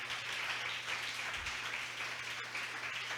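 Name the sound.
church congregation applauding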